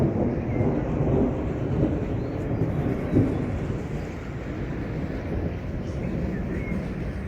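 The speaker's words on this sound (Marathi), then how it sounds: "हा आवाज तुम्ही घेऊ शकता ढगांचा." Deep, rolling thunder rumbles steadily for several seconds during an unseasonal storm with lightning in Baramati, heavy and continuous, with no clear break.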